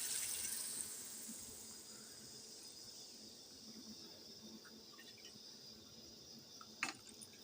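Tap water runs steadily into a sink in a home kitchen while vegetables are being cooked, a constant soft hiss, with a brief splash or clatter near the end.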